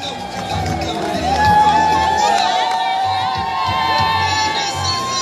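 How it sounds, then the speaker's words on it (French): A large crowd shouts and cheers continuously at an outdoor presidential visit to shipwreck survivors in South Kivu, loud and sustained with scattered whoops and a high whistle-like tone running through. "Nous redescendons, vous entendez les cris."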